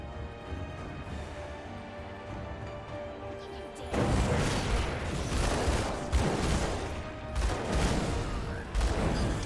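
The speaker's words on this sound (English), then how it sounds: "as you can see how good the flashbang works, so you throw it in the pack of enemies" Flashbang hurled into a pack of enemies in the action RPG Grim Dawn, a burst of explosive blasts and crashing impacts kicking in abruptly midway and repeating in heavy pulses over game ambience.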